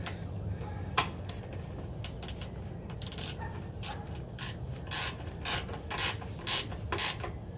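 A ratcheting wrench tightening a bolt on a trailer light, with a rapid run of mechanical clicks in short repeated bursts, close and clear, with brief pauses between strokes.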